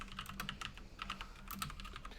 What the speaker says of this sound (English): Sorry, I'm trying to type really quiet, but obviously.